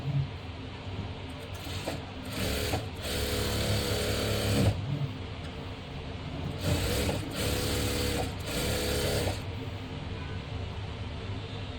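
An electric sewing machine stitches the side seam of a blouse, its motor whirring steadily and loudly in long runs broken by brief pauses, close by, with no speech.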